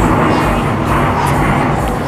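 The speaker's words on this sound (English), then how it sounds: "Excuse me, plane, we're trying to exercise here." An airplane passes overhead during an outdoor workout, a steady, loud broadband roar that fills the whole stretch without letup.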